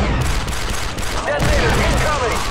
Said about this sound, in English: Who is shooting? Who's shooting me?